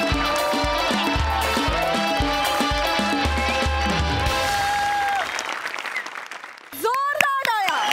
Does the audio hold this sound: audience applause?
yes